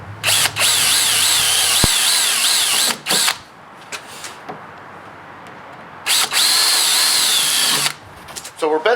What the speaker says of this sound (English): I'm going to drill out these 6 rivets holding this windshield scraper in place, and just using an 1/8 inch drill bit